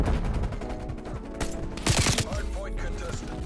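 Rapid automatic AK-47 gunfire in the video game Call of Duty: Cold War, dense bursts of shots with a couple of louder cracks over a constant busy game-sound background.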